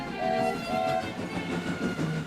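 A train hauling a rail car and mail cars rumbles steadily along the track, with two short horn blasts early on over the continuous rolling noise.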